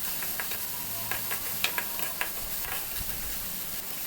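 Green chillies frying in hot oil, a soft continuous hiss with a few faint ticks and light spatters, steady and fairly quiet throughout.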